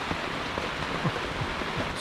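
Rain falls on a sailboat at anchor off the Cape Verde islands, a steady close patter with scattered individual drops striking the deck throughout.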